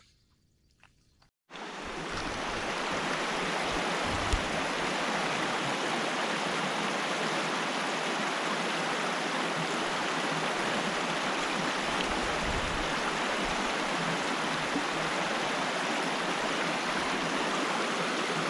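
A forest river in Scotland rushes steadily near a bridge, a loud, continuous broadband roar that starts abruptly after a quiet moment and holds unchanged to the end.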